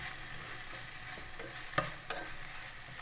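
Chicken mince sautés in a pan with finely chopped green chilies under a soft, steady sizzle, broken by a few quiet scraping stirs near the middle.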